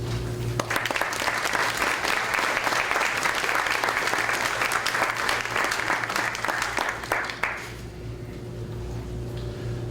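Audience applause at a Hometown Heroes awards ceremony honoring fire services and emergency management, a sustained dense wash of clapping from a large crowd that tapers off near the end, with a low steady hum beneath.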